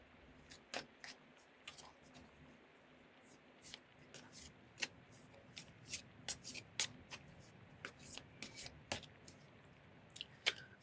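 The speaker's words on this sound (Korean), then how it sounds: "더 깊은 곳에 있는 그런 아픔을 보듬어 줄 수 있는 카드들 3장도 뽑아보도록 하겠습니다." Tarot cards are shuffled and drawn by hand in a soft series of quick riffling flicks and slaps, close and fairly quiet, with a voice faintly in the background.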